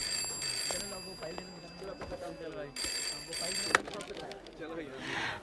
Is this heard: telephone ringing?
yes